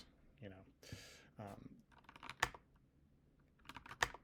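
Scattered keyboard clicks and taps at close range, interspersed with brief bits of speech-like sounds.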